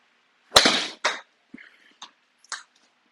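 Golf ball struck with an approach wedge during a launch-monitor combine session: one sharp, close crack of impact, followed by a few faint knocks and clicks.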